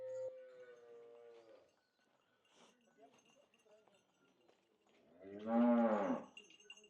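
A large dairy cow for sale lets out a low moo at the start and a louder, longer one near the end, with quieter shuffling and faint talk in between.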